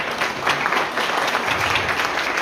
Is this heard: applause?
yes